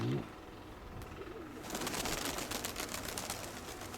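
Pigeons flying outdoors against the wind, heard faintly and at a distance under steady wind and background noise, with soft fluttering and rustling through the later half.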